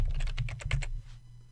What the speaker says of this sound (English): Find the permission policy you just created by entering InvoiceExplorer into the search box